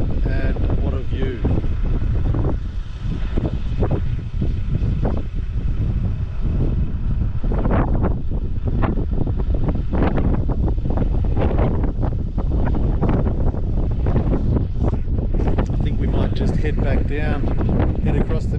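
Strong, freezing wind buffets the microphone at the Mount Pinabar summit in Victoria's High Country, a loud, constant rumbling roar with gusting bursts, while a person talks through it.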